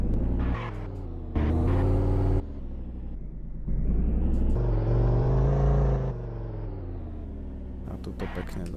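An Audi RS3 rumbles and revs close by as it rolls over a curb, the engine note surging and dropping in uneven bursts.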